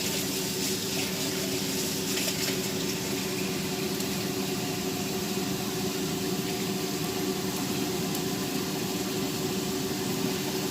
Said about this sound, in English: I'm going to wash my hands off just for a minute.